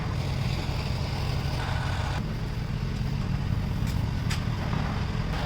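In a newly built American house, an air-conditioning blower for hot and cool air runs with a constant, even whooshing drone, close and steady, with no talk.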